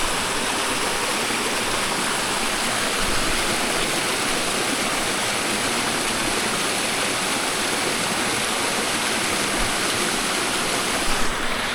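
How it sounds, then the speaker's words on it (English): Creek water rushing over rocks at Johnson's Shut-Ins, a dense, steady roar of flowing water heard up close and unbroken throughout. "I love this creek."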